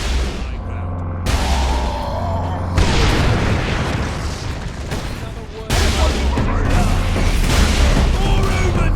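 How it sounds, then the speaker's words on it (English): In the video game Warhammer 40k: Space Marine, heavy booming blasts from an Ork rocket attack hit at intervals amid dense battle noise and gunfire, loud and close, with shouted voices mixed in. "Ork rocket on high ground."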